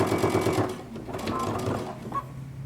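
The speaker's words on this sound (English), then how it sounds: "I am going to stitch over the existing stitching that we have already." A sewing machine stitches over existing seam stitching on jumpsuit pants, a steady close mechanical whir with rapid needle rhythm, slowing near the end as a faint voice murmurs underneath.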